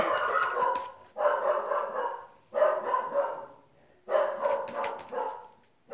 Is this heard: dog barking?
yes